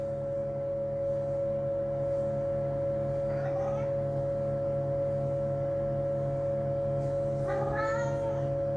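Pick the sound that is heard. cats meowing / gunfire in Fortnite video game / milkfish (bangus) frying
cats meowing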